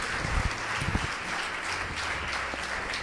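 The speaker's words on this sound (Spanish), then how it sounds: "Vamos un aplauso a ellos de bienvenida" A church congregation gives welcoming applause to newcomers, dense clapping with low murmur and faint voices beneath, sustained and fairly close for a few seconds.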